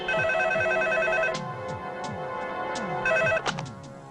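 A telephone rings in a home, two clear bursts of ringing separated by a pause, over background music.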